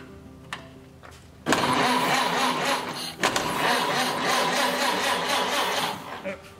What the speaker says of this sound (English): now this is going to be the first crank up, and I'm going to try it without choking it and see if it'll crank